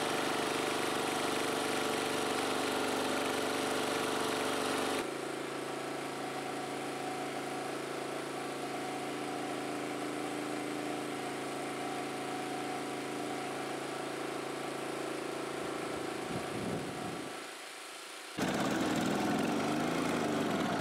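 A generator engine runs steadily under an electrical load of about 1048 watts at 4.6 amps, a constant mid-pitched drone that shifts level partway through, briefly drops away, then returns loudly.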